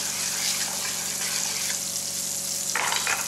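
Unsalted butter and sugar sizzle steadily in a pan, a continuous close crackle that swells briefly near the end as something is stirred or added.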